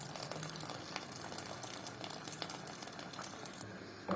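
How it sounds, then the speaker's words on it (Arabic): Water is poured into a pot of washed rice and lentils for Egyptian koshari, making a steady, soft splashing and trickling that lasts throughout, with light sizzle-like hiss and no talking. "محتاج شويه ميه، ازود ميه."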